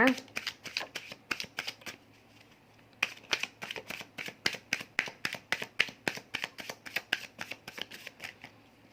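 Tarot cards being shuffled by hand up close, a rapid series of crisp snapping flicks that pause briefly and then resume in a fast, even rhythm.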